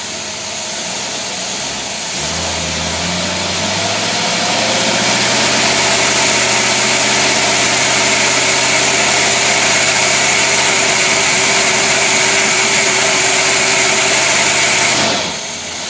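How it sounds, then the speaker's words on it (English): A carbureted engine on a freshly rebuilt Quadrajet runs steadily, then drops into a deeper, heavier drone as load is applied, holding strained and loud for over ten seconds before releasing. "That load will keep loading up the engine until it actually stall it out"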